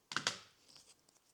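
Scissors trim the top edge of a leather gusset on a dog poop bag holder, giving two quick, close, crisp snips followed by faint scraping.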